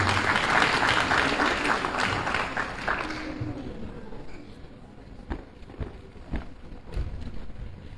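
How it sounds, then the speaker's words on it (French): Audience applause at the Huawei Tunisia Spark Program final event in Tunisia, a dense burst of clapping that fades after a few seconds into scattered claps and room noise. "Sous les applaudissements."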